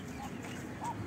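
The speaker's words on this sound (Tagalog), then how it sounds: "Mga manok at pato na nagkakainan dito." Chickens and ducks feed together in a rural yard in Bicol. Two brief, soft quacking calls sound against low background murmur.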